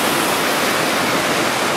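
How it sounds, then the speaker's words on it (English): Waterfall on the rocky coast at Ravenscar, a loud, steady, broad rushing roar of falling water close by, filling the whole moment with no voices. "Maybe under the waterfall."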